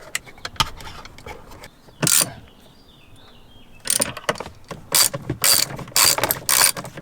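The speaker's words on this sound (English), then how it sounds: "Now use the original bolt to lock the main bracket in place." A ratchet tightens the original bolt holding the main display bracket of a Tesla Model Y Juniper. Sharp, close metallic ratchet clicks come in several quick bursts, separated by quieter gaps.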